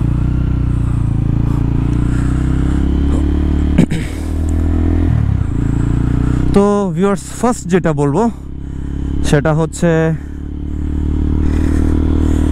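A TARO GP1 V3 full-fairing sports motorcycle rumbles low under heavy wind noise while riding, with an engine note that rises and falls through gear changes, as a rider talks intermittently.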